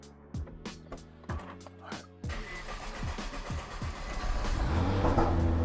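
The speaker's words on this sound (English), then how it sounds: "Let's get this cold start going." A Nissan GT-R engine cranks in several short bursts, then catches on a cold start, settling into a loud, rough idle that rises as it revs, with an exhaust pop.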